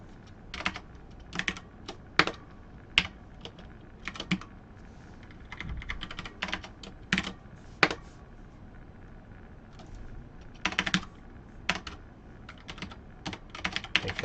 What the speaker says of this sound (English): Thanks for bearing with me with my very clicky keyboard.